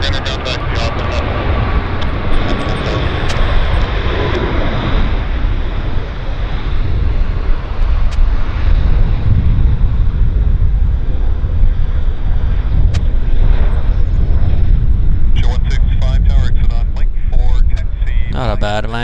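Airliner landing at Vancouver airport, a steady roar with heavy wind buffeting lasting throughout, with radio chatter between pilots and ground control over it.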